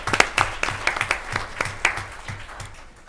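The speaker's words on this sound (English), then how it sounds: "Let's give our youth commissioners a round of applause." Audience applause at a county board of commissioners meeting honoring youth commissioners: a short round of clapping with distinct, uneven claps that tapers off over a few seconds.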